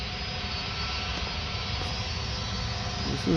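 An Airbus A330 takes off from Paris Orly airport, a loud, steady jet engine roar that holds broad and constant throughout, with no voices.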